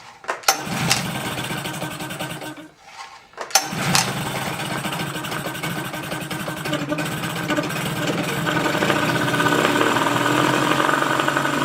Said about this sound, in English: Now I can't rev it too high because the advance has to work. The timing is also tied into it. But at least it revs.